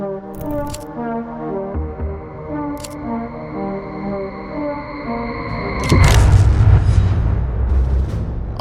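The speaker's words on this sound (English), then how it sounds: "A World War II bomb suddenly exploded in Great Yarmouth while defusing it" A World War II bomb detonating in a river at Great Yarmouth during defusing: a low rumbling and tonal background, then a sudden deep boom that swells into a sustained roar, heard from a distance.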